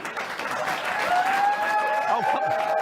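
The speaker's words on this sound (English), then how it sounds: "They're applauding hell. They are applauding hell." Studio audience applauding steadily on a late-night talk show, dense sustained clapping with some cheering voices mixed in, close and loud throughout.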